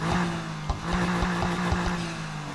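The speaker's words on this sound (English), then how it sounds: "A bit weird for a BMW sound. It sounds like a Porsche." Spike's BMW M2 in Need for Speed Heat idles with a steady, loud engine drone, punctuated by several short revving blips and throttle pulses, with no talk.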